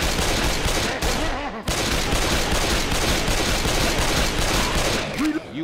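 Dense, continuous gunfire in a zombie survival video game, loud and sustained with rapid bursts, a brief gap midway, with voices talking over the shooting.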